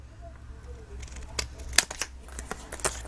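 Scissors snip through paper or card to cut a piece for a box lid, giving several crisp close cuts in quick succession over a low steady hum, with no talking.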